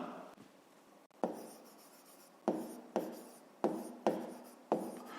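A pen works on paper while solving a fifth-grade math exercise, faint soft scratching broken by six or so sharp taps of the pen meeting the page, close and quiet, no voice.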